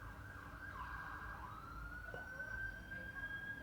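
Police car sirens wail steadily as vehicles pass by in a community street, the rising and falling tone continuous over a low rumble of traffic.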